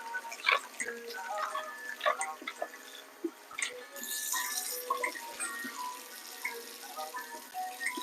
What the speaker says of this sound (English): I'm just gonna wash the plum tomato.